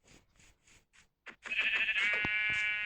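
A Minecraft sheep gives a drawn-out, wavering bleat that rings loud and close, preceded by a few short soft taps or footstep-like sounds.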